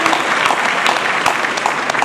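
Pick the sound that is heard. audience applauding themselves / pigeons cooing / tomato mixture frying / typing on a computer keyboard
audience applauding themselves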